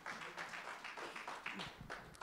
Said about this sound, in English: let's give God the best clap of praise po